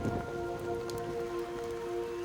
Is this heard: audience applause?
no